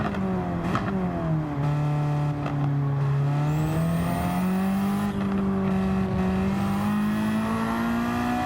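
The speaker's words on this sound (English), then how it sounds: "I really just love listening to this car's engine. It just sounds so good with the exhaust and manifold that we've got on it." Ford Focus backyard-build race car with modified exhaust and manifold, engine droning loud and steady in a race against world touring cars, pitch rising and dipping through gear changes at close range.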